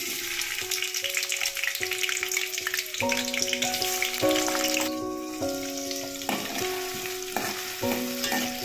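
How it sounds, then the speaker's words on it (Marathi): Chopped onion frying in oil in a pan for a Maharashtrian small white prawn mixed vegetable dish, a steady close sizzle with stirring throughout, over continuous background music. "कांदा छान परतून जा"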